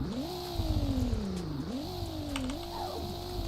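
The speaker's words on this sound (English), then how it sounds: "Let's rev it real quick." A BMW M3 engine in the Roblox game Greenville revs up twice with rising and falling pitch, loud and close, with steady engine drone throughout and no talking.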